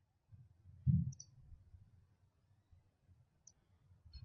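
A single faint mouse click on a Save button in accounting software, a soft tap near the start of an otherwise quiet moment.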